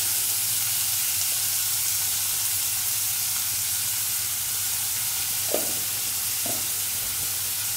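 Onions fry in hot oil for a Tamil chicken curry, giving a steady, even sizzle throughout, with two faint stirring clinks near the end.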